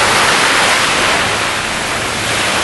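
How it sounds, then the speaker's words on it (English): Ocean waves crashing onto a beach, a loud continuous broadband roar of surf with a steady wash of noise and no voices. "The waves are crashing in."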